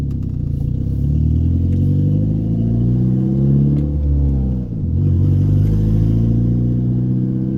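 A turbocharged Mazda 3 engine revs on a road test drive, a steady loud drone whose pitch climbs and falls through the gears, with a brief dip near the middle before it picks up again.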